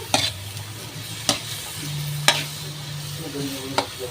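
Kangkong stems are stirred in a hot pan, a steady sizzle of frying with four sharp scraping strokes of a utensil spaced about a second apart, close and clear.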